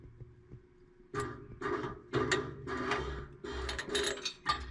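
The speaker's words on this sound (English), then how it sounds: "I'm going to try pumping the motor again" A jammed pellet stove's auger motor is pulsed in short mechanical bursts, about six clunking, grinding spurts in a row, fairly close and quiet.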